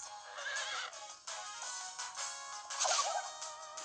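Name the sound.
horse neighing during mounted attack in video game Miitopia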